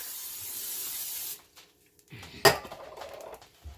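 A hiss fades out, then a metal utensil scrapes chicken stuck to an unoiled pan with a sharp clang followed by a few brief scraping strokes, close by.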